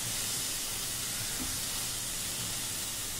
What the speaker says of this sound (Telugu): పల్లీలు ఎండుమిర్చి రెండు కూడా మీరు బాగా వేగే వరకు కూడా మీరు వేయించుకోండి.